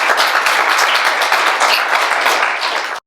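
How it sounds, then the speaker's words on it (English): Loud, dense applause from an audience at a local tech event, sustained clapping close by for about three seconds before cutting off abruptly. "let's give them a round of applause"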